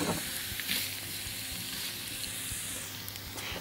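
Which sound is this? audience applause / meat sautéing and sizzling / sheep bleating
meat sautéing and sizzling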